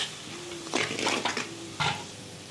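A spoon stirs turmeric, chili powder, coriander powder and salt in a sizzling pan, with a few scraping, clinking strokes over a low frying hiss.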